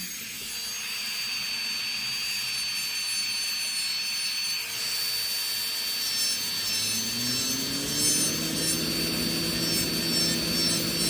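An electric manicure nail drill running at maximum speed gives a steady high-pitched whine that holds throughout, with a lower tone rising in pitch midway as the bit loads up, close and continuous with no talking.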